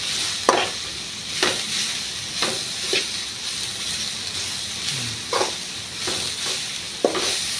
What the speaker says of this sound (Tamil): முட்டைக்கோஸ் இந்த எண்ணெயிலே வதக்கிடுங்க.